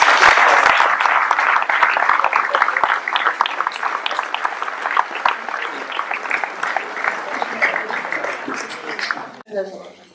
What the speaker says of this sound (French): Donc je vous demande d'applaudir Alice.